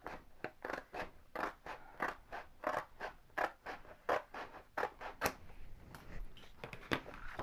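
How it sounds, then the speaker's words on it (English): Scissors cutting through a stencil backboard, a quiet, close series of rhythmic snipping and crunching cuts repeating steadily, with no talking. "So let's just grab a pair of scissors."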